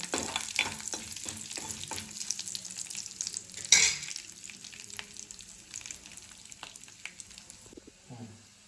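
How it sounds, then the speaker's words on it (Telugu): Mustard-type tempering seeds and dried red chillies fry in hot oil for a pounded roti chutney, giving a steady close crackle and sizzle with small pops and stirring scrapes throughout. "రెండు పెట్టి తాలింపు గిన్నెలు మంచిగా వేగాలండి వేగితేనే టేస్ట్ ఉంటుంది"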